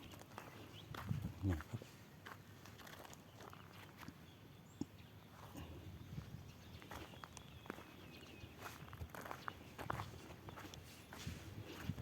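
Footsteps crunch and pad across compacted dirt ground outdoors near a house, a steady run of separate steps, some nearer and louder, with someone talking at times and faint background sounds.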